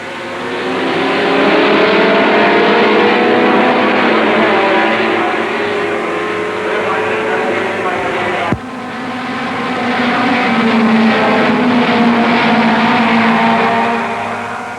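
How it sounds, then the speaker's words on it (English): 1960s Formula Junior race cars roar off the starting line together, a loud sustained blare of many engines revving hard, briefly cut and then resuming as the pack accelerates away. "Now for the start of the Formula Junior race, and, to coin a phrase, they're off."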